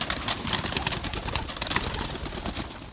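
Pigeons cooing inside a loft in Richmond, Kentucky, soft repeated coos and rustling from several birds close by, steady throughout with no talking.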